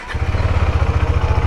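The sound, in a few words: motorcycle engine starting with self start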